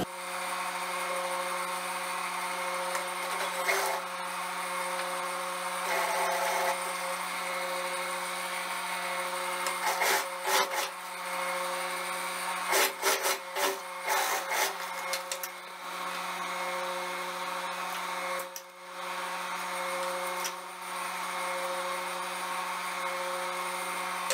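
A sewing machine stitches the side seam of a skirt, running in a steady close mechanical whir with brief stops and restarts partway through, and no talking.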